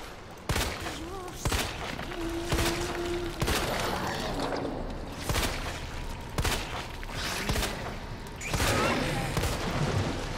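Bursts of gunfire crack repeatedly over a dense, noisy Resident Evil 2 Remake soundtrack, shots spaced irregularly with a few tonal beeps between them.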